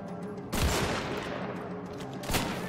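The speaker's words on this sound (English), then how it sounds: "Man, I shot him twice and he still didn't die." Two loud gunshot blasts ring out in the Wolfenstein: The Old Blood video game, one near the start and one near the end, over a dense background of game noise.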